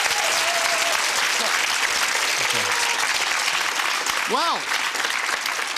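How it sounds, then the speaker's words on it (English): A studio audience on a British TV quiz game show applauds in continuous, even clapping, while a host's voice speaks briefly over it. "give him a round of applause anyway."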